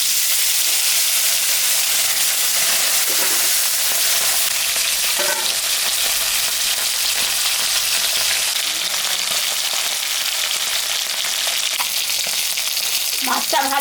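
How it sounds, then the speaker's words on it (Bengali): Fish seasoned with salt and turmeric fries in hot mustard oil, a steady loud sizzle and crackle running the whole time with occasional stirring scrapes, no voices. "এখন আমি সর্ষের তেল দেব মাছটা ভাজার জন্য।"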